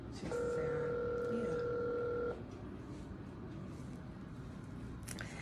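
Touch-tone phone dialing, a steady two-tone DTMF beep held for about two seconds followed by a short tone, heard close up over low room noise before fading into quiet background.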